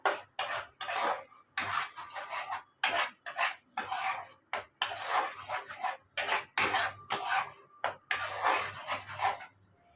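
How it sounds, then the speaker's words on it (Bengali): A spoon stirs and scrapes paneer butter masala paste as it fries in a pan: repeated rhythmic scraping strokes with short pauses between them, close and moderately loud over a soft sizzle. "এই পেস্টটাকে আমি একটু ভালো করে কষিয়ে নেব।"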